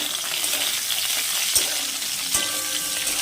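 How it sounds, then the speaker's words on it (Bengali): Cauliflower florets frying in a wok, a loud, dense, even hiss of hot oil with a couple of brief knocks from a utensil. "ফুলকপি ভাজা বসিয়ে দিয়েছিলাম দেখো একটু লাল লাল হয়ে গেছে"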